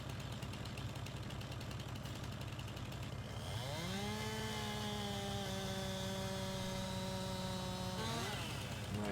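A chainsaw in Farming Simulator 19 drones at a steady idle, then revs up to a sustained high whine while cutting a tree off a tractor, and drops back near the end; no talking.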